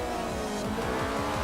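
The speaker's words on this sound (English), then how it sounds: "This thing's got good braking power." A car brakes hard and its tires squeal, a steady sustained screech with a wavering pitch over the engine and road rumble, close and loud with no talking.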